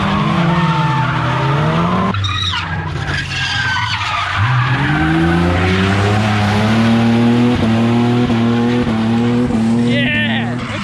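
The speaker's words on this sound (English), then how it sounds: "That is literally a bog stock Falcon with a welder diff and a hydraulic handbrake." Tires squeal in long, wavering bursts as a stock Ford Falcon with a welded diff and hydraulic handbrake drifts at Norwell Motorplex, the engine droning loud and close throughout.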